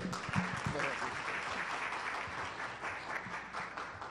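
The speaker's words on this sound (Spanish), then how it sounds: "Por favor, un fuerte aplauso para él." An audience at a medical conference on orthomolecular serum therapy applauds a speaker, a sustained dense round of clapping with a voice briefly heard at the start.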